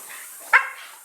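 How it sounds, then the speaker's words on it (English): A dog lets out a single short, sharp bark, close and loud, against a quiet indoor background. "Betty, I'm just telling the dog to stop spinning because we forgot about the dog"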